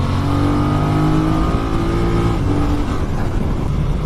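A loud, steady BMW F900R twin-cylinder motorcycle engine pulls hard under acceleration at about 3,500 to 4,000 rpm, its low throbbing note rising slightly, with a continuous roar throughout.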